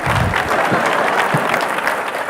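Keynote audience at a 2012 social media conference breaking into clapping, a dense, steady burst of many hands sustained at even loudness throughout, with crowd noise beneath.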